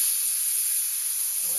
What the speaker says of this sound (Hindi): आपको जो है इसकी सीटी निकाल के अब कुकर का ढक्कन जो है अभी आपको खोल लेना है